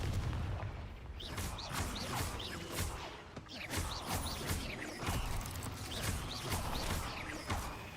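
Repeated fiery blasts of the Confringo explosion spell in the game Hogwarts Legacy, set inside a cave, bursting at a fast irregular rhythm over a dense, loud combat din with no speech.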